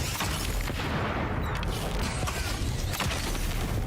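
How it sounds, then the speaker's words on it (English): A big explosion in the video game Avowed, with dense crackling blasts and booming bursts that keep up at a loud, steady level for several seconds. "That's a big explosion."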